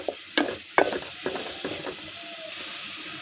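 A spoon scrapes and stirs spinach soup with spices inside a cooking pot in a few quick strokes over a soft, steady sizzle.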